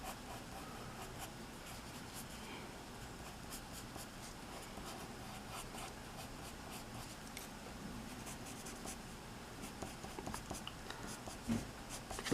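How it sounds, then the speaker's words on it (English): A pencil shading the underside of a plant in a drawing, a faint continuous scratchy rubbing of graphite on paper, close and quiet, with a few louder strokes near the end and no talking. "Be sure to shade on the underside of the plant"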